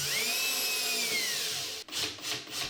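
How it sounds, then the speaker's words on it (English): A drill bores a hole into the bottom of a CNC-carved sculpture blank, a faint whining spin that slowly falls in pitch before stopping, followed by soft scraping rubs. "drill a hole in the bottom for a threaded rod to go into"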